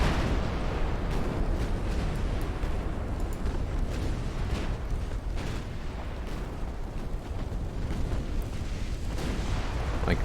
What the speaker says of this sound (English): Yep, that's one battleship going down.